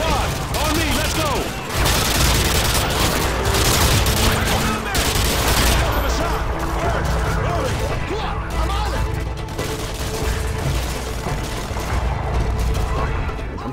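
Heavy gunfire in the Modern Warfare 2 video game, a dense continuous barrage of shots and bursts with booming impacts, loud and chaotic throughout, with voices shouting underneath.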